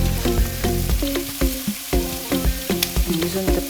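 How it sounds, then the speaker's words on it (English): Potatoes crisping up in a frying pan for potato hash, a loud continuous sizzle broken by repeated scraping and clanking as a spoon stirs them, close and busy, no talk. "See, the potatoes are beginning to crisp up. Give the stir."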